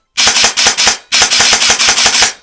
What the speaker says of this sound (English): So single shot, trigger response on this gearbox is phenomenal